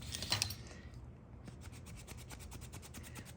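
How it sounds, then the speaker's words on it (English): A wooden tool rubbed with beeswax burnishes the moistened slots of a leather sheath, giving a faint, close rhythmic rasping with quick even back-and-forth strokes. "I start burnishing the slots like this"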